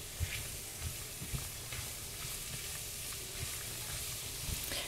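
Onions frying in a pan, a soft, steady sizzle with faint stirring scrapes and occasional small pops, quiet and continuous with no talking.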